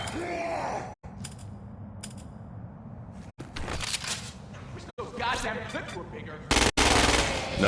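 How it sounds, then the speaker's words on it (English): Gunfire from shooting at freaks in the video game Crackdown 2, loud bursts with brief breaks between volleys, with game voices and effects layered in. "Use precision targeting to shoot the freak's head or legs."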